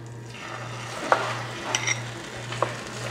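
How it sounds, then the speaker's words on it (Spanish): Beaten egg goes over pieces of bread frying in a pan, making a soft, steady sizzle broken by a few light clinks and scrapes of a utensil. "Ahora le vamos a poner el huevito que batimos."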